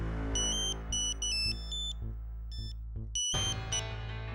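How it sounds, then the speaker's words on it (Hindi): A mobile phone ringtone plays a bright electronic melody of short, rapid tonal notes in bursts, moderately loud over a low steady background hum. "तेरा फोन बज रहा है।"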